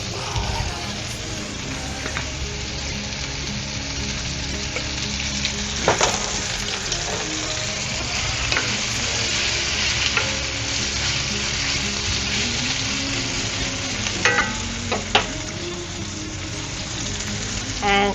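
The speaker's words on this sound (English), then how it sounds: "I want to saute the onions, almost caramelizing them." Onions sauté in olive oil over medium heat, giving a steady, even sizzle with occasional stirring taps and scrapes of the utensil in the pan, close and continuous with no talk.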